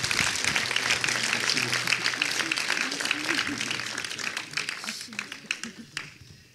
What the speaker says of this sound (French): On peut applaudir vous deux et les 40 citoyens qui ont participé.